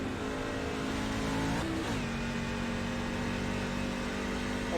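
A race truck engine on the Watkins Glen circuit in the iRacing game drones steadily at high revs. A quick pitch dip marks an upshift, then the note climbs again and holds loud and continuous.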